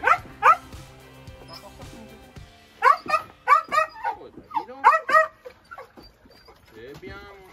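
Dog barks in short sharp bursts mixed with high whimpers and yips, loud and close, with a pause between volleys and a faint voice underneath.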